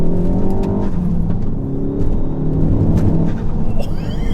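A 410PS Mk4 Ford Focus ST with Revo Stage 2 tune and Milltek exhaust revs hard from inside the car, a loud, rising engine drone with rapid gear-change swells and a few sharp crackles toward the end.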